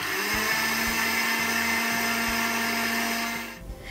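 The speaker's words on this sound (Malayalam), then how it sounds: "ഇതിപ്പം അരിയും ജീരകവും ഇത് രണ്ടും കൂടി വറുത്തതാണ് കേട്ടോ ഇപ്പോൾ പൊടിക്കുന്ന മിക്സിയിൽ" A kitchen mixer grinder whirs loudly and steadily, grinding roasted rice and cumin seeds into powder, with a constant high motor whine and slight rhythmic rattling, then cuts off abruptly near the end.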